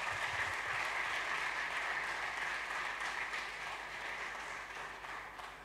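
A congregation at a church service applauds the Lord, a dense continuous clapping that fills the room and slowly fades a little toward the end.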